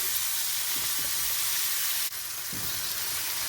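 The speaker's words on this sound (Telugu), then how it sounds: "ఇప్పుడు మనం ఇందాక కట్ చేసుకున్న ఆకుకూర కూడా వేసి ఫ్రై చేసేసుకుందామండి" Chukka kura leafy greens fry in a pan with garlic, producing a close, steady sizzle with a brief dip and the faint scrape of stirring partway through.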